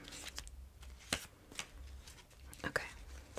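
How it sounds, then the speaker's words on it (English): Soft riffling and flicking of playing cards being shuffled, several quick bursts close by in a quiet room. "I'll just shuffle them a little bit."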